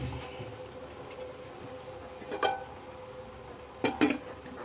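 A lid is set over a pot of aviyal, made with curry leaves and ground coconut paste, giving two close metallic clanks against a low steady kitchen hum, with no talk.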